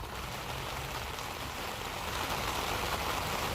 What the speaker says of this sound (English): So we got some more rain.